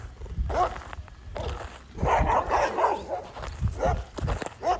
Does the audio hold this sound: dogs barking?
yes